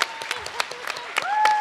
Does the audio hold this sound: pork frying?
no